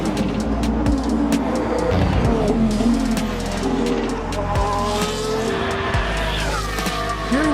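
Formula One race cars driving past in a busy trackside setting, engines roaring continuously with rising and falling pitch sweeps, loud and dense throughout with crowd-like background noise.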